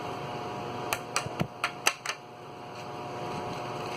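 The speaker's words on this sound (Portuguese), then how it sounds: "Está fazendo muitos cliques" Homemade glue slime squeezed in the hands gives a quick run of about six sharp, close clicks and pops in a row, followed by a quieter stretch with no voices.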